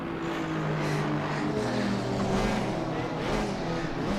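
GT4 race car engines in the Assetto Corsa Competizione racing game drone and rev continuously, with several pitch swells as the cars accelerate and shift, loud and sustained with faint voice underneath.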